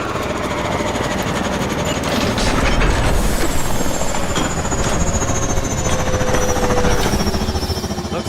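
A futuristic warbird aircraft engine from the Call of Duty Advanced Warfare video game, heard as a loud, steady mechanical roar with a rapid rattling pulse and a whining high tone, continuous and close throughout.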